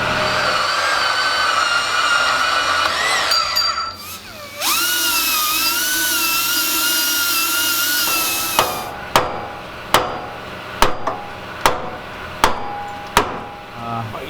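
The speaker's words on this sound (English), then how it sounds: "So let's cut another inch off of this one." A power tool cuts a Mustang suspension part, starting with a high whining grind that drops and holds steady for several seconds, then gives way to a series of sharp, evenly spaced metallic hammer blows, loud and close.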